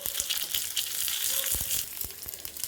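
Chilli dropped into a hot mustard-seed and urad dal tempering sizzles steadily in oil, a loud continuous frying hiss with small pops and crackles throughout.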